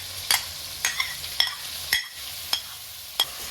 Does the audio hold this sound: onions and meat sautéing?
yes